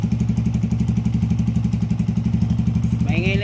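A Honda TMX 125 Alpha motorcycle bored up to 150cc idles up close with a leaking exhaust, a steady, rapid pulsing putter; a brief higher tone rises near the end.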